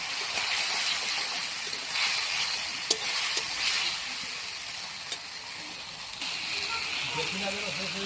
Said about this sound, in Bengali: এখন একটু মশলাটা কষিয়ে নেব।